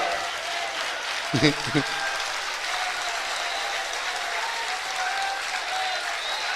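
A crowd at an Indore sermon by Acharya Vidyasagar keeps up continuous, even clapping throughout, loud and enveloping, with a short spoken phrase breaking through early on.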